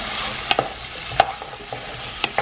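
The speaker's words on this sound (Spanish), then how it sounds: "Pero vamos a hacer que se doren las papitas" Potatoes frying in hot oil until browned, a soft continuous sizzle punctuated by several sharp clicks and scrapes of a utensil in the pan, close and moderately quiet, with no voices.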